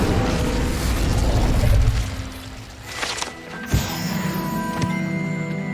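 Incendio fire spell cast in Hogwarts Legacy: a roaring burst of flame that swells loudly, fades, then ends with a sharp crackling pop and lingering magical shimmer.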